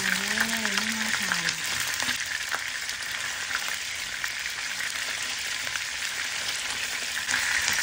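Pieces of white tofu frying in hot oil in a pan, a continuous bright crackling sizzle held at an even level; a brief tonal voice-like sound at the start, then steady frying alone.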